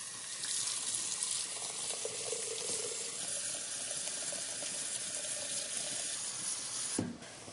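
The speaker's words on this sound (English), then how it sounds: "And the last major ingredient to add to the stock, the water." Water pours in a steady, rushing stream into a pot of vegetables for stock, continuing evenly for about seven seconds before cutting off with a soft knock.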